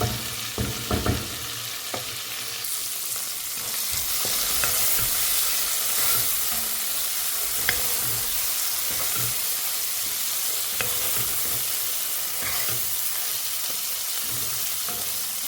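Eggplant and potatoes frying with dried fish in a pan, a steady close sizzle and hiss that runs throughout with small crackles and stirring scrapes.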